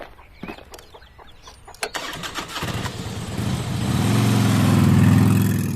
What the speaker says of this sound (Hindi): अब अजय के जाते ही साकेत मोटरसाइकिल स्टार्ट करके इन दोनों ग्रामीणों के पास आ पहुंचा था।